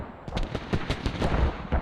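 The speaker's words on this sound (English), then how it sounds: "TT's still on mortars." Continuous rumbling barrage of explosive booms and thumps from artillery-style fire in the video game Squad, dense and overlapping throughout a short burst, no voices.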